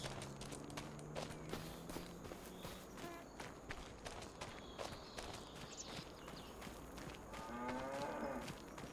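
Cattle mooing in the farming video game Farming Simulator, several drawn-out moos from nearby animals over steady game ambience with rustling and footstep-like clatter, the lowing recurring across the scene.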